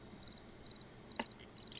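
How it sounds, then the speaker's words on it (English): Crickets in the mushroom-hunting game Morels The Hunt chirp in quick bursts of four or five pulses, repeating evenly about every half second against a quiet background, with a brief soft click partway through. "the crickets are very loud"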